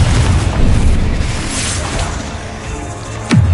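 A Confringo spell in the Hogwarts Legacy video game bursts into a loud, rumbling explosion that decays over a few seconds, followed near the end by a short sharp whooshing impact.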